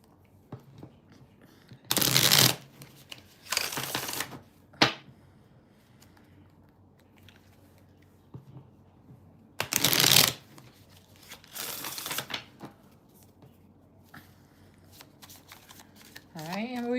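A deck of tarot cards is riffle-shuffled in four distinct close bursts of rapid flapping, separated by quiet pauses with a faint voice in between.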